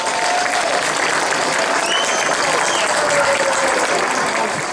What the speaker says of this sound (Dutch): ik wil van jullie graag een heel warm applaus voor al deze sponsoren en vrijwilligers